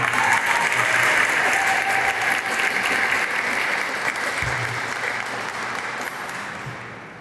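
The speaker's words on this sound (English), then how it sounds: "Let's give him a round of applause" An audience at a Hispanic Heritage Month closing ceremony gives a sustained round of applause, dense steady clapping from many hands that fills the room and slowly tapers off toward the end.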